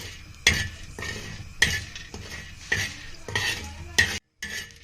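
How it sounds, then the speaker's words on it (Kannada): Chana dal being dry-roasted in a pan for idli chutney, stirred with a utensil in several scraping bursts with faint clinks and a low sizzle, close and with no talk. "ಇವಾಗ ಹಿಂಗೆ ಹುರ್ಕೋಬೇಕು ನೋಡ್ರಿ ಕಡ್ಲಿ ಬೇಳೆನ"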